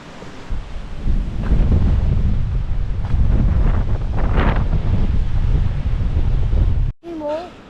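Strong wind buffeting the microphone on an exposed coast, a loud continuous roar with gusty surges that stops abruptly near the end, followed briefly by a voice.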